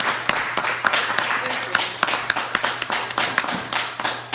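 A small audience at an open mic comedy show claps in sparse, uneven bursts, individual hand claps standing out rather than a full ovation.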